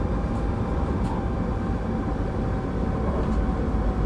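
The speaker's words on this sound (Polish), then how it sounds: "Lokomotywa zaczęła hamować hamulcem elektrodynamicznym." A BR 193 electric locomotive in the video game Train Sim World 5 braking electrodynamically at speed, a steady loud rumble and hum of the running train that stays constant throughout, with no talking.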